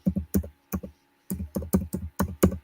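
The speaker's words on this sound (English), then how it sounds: "that's a keyboard tap" Clustered taps on a computer keyboard, crisp and close, coming in quick irregular bursts of two or three strokes with short pauses between, alone without talk.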